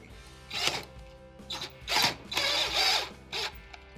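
Small screw being driven into the grounding point on a microwave diode during a Whirlpool microwave magnetron repair, a series of short close buzzing and ratcheting bursts of uneven length.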